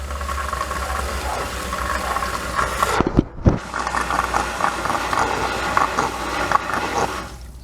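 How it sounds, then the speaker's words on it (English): A boat bilge pump runs steadily, pushing water out of the hull with a continuous gurgling, rattling wash, briefly dropping out partway through before resuming loudly. "the bilge pump just kicked on"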